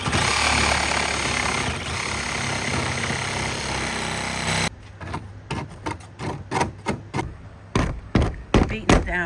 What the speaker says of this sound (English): I think I'm about to pull out the power tools